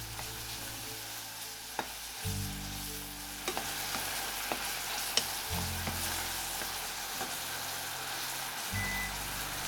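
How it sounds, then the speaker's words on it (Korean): Sliced bananas stirred into hot caramel in a pan give a quiet, continuous sizzle with occasional clicks of a spatula, while a low mechanical hum starts and stops in the background. "다시 불을 켜고 약 1분간 바나나를 캐러멜과 섞어주세요."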